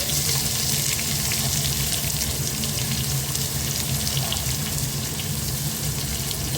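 Finely chopped onions frying in a hot pan make a loud, continuous sizzling hiss. It is close and steady throughout, with no talking.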